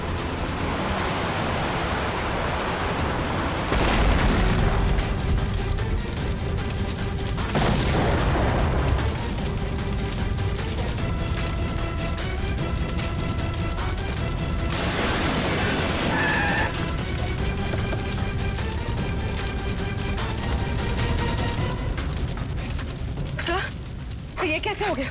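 A loud car bomb explosion erupts in a deep boom, followed by crashing debris, roaring noise and a second blast burst, under dramatic music.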